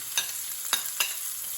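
Chopped onion frying in a pan for a garlic chicken bhuna, a steady soft sizzle broken by three brief scraping clicks of stirring, close and fairly quiet.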